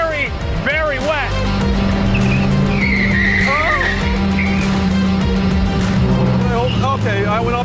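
A supercar at around 120 slides on a very wet road, with loud, continuous engine roar and repeated rising tire squeals and skids, while a voice talks over it.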